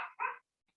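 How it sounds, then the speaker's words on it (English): A pet dog at home lets out two quick, sharp barks in close succession, fairly near and clear, followed by silence and a faint tiny yip. "My dog is going crazy right now."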